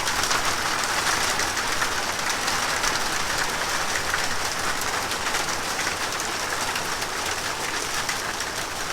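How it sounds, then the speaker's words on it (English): Hail falling in a severe thunderstorm, a dense, steady hiss and clatter of hailstones striking surfaces, loud and continuous from start to end. "this is hail for sure"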